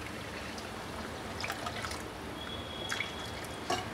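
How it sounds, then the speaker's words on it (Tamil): Water trickles and splashes into a pan of sautéed tomatoes for a vadai curry, a soft steady pour of about one cup with a few faint clinks, no voices. "இதில் 1 கப் தண்ணி ஆட் பண்ணிக்கலாம்."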